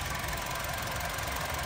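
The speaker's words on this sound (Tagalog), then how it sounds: "Yan yung makina niya guys, napakatahimik." A quiet 1.3-litre car engine idles with a smooth, even hum and no changes in revs, heard alone for a short moment.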